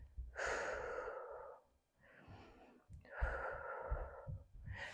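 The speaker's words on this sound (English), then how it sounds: "Take some deep breaths." A person takes deep breaths during a shoulder stretch in a workout, with two long, close breaths separated by a short pause and a softer breath in between.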